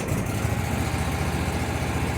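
Walker MT23 mower engine running steadily at full power nearby, a continuous rough low rumble with no pauses.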